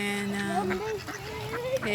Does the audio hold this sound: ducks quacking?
yes